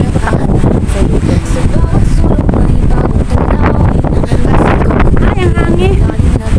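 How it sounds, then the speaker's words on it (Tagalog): Strong wind buffets the microphone in a constant loud roar, with a voice faintly audible underneath. "Ay, ang hangin."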